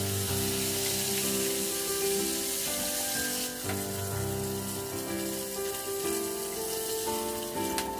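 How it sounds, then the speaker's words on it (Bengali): Rohu fish heads fry in oil over high heat, giving a loud, continuous crackling sizzle with faint clinks, with no voices. "হাই হিটে মাছের মাথাগুলো ভেজে নিতে হবে"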